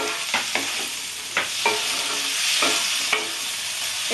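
Tomatoes hit a pan of softened capsicum and onion frying in butter for pav bhaji, giving a steady sizzle broken by repeated scraping stirs of a spatula, close and continuous.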